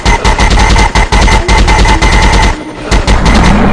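Loud, rapid, continuous automatic gunfire in a commando-style shooter game, dense rattling bursts with a brief pause before firing resumes close and harsh.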